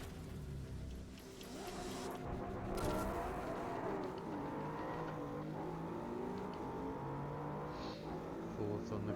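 Race car engine from Gran Turismo 7 in a Red Hills Cup race, a faint in-car drone that rises in pitch while accelerating from the grid, with a voice talking over it.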